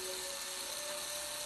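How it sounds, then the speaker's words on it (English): A two-directional power drill whines steadily at high speed, run backwards on a car's odometer, a short continuous buzzing drone with a thin tonal edge, close and alone. "Two-directional drill. You run it backwards, the numbers go down."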